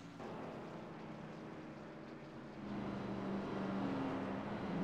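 Low race car engine drone in a racing video game at Charlotte Motor Speedway that rises in pitch and grows slightly louder midway as it revs, somewhat distant and muffled.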